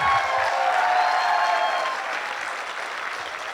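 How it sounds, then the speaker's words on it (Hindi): Loud, dense clapping from an audience at a company achievers' celebration in Jaipur, honouring first-time guests; the applause runs strongly and then eases slightly toward the end. "बाकी जो सारे लोग हैं वो इनके लिए ताली बजाओ जो आज पहली बार आए हैं"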